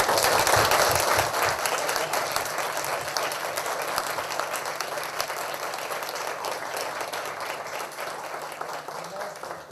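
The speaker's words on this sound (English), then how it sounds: "let's have a round of applause." Audience applause at a school board forum: a steady, full burst of clapping from a room of people that starts loud and stays dense for nearly ten seconds, fading only slightly toward the end.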